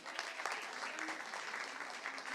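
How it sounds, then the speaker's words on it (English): An audience at a live Women Power face-to-face event at India Habitat Centre claps in a steady, moderately distant round of applause, with no break in the sound. "Let's give a big round of applause for Shibani Kashyap ma'am."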